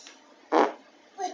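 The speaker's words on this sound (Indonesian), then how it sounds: "Kentut." A single short fart, sounding close and fairly loud, stands out against a quiet background, followed by a faint voice.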